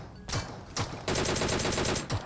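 Gunfire in the mobile battle game PUBG Mobile, heard as two short bursts and then a longer rapid automatic volley, loud and near, with no talking.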